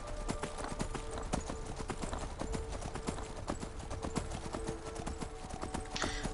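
Steady clip-clop of horse hooves at a brisk, even rhythm, moderately close, with faint background game noise and no talking.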